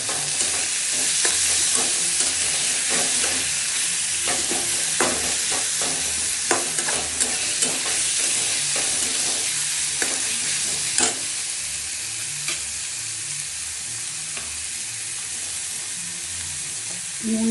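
Tomato with green chillies fries in a pan, a loud, constant close sizzle with a run of spoon scrapes and taps through the middle that thins out toward the end, with no talking.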